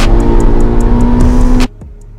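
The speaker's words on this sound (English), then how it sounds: "This is my Turbo Miata." A turbocharged Mazda Miata engine runs loud and close with a rough idle and rapid ticking pulses, then cuts off abruptly, leaving near silence with faint ticks.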